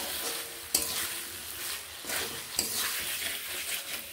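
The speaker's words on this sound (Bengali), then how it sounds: "ভেজে রাখা আলু দিয়ে মশলাকে, আলু মশলা একসঙ্গে ভালোভাবে কষিয়ে নেব।" Fried potatoes stirred together with masala in a pan for a small-fish curry with eggplant, giving a steady close sizzle with two sharp clinks of the spoon against the pan.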